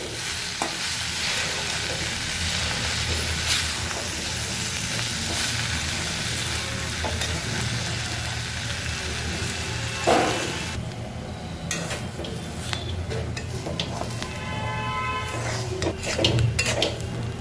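Semolina frying in oil in a pan for sujir polao, a steady loud sizzle running throughout while it is stirred, with scraping spatula strokes and occasional metallic knocks against the pan near the end.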